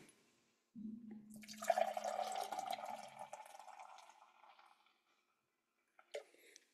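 Beer is poured into a Gateway Grizzlies pint glass: a steady, close liquid gush lasting about four seconds, with fizzing that fades out, followed by a couple of faint clinks.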